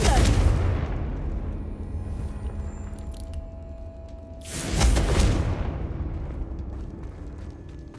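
Fiery Confringo spell blasts in Hogwarts Legacy: two loud, broad explosive bursts, one at the start and one midway, each fading into a low rumble with a game-ambience hum between them.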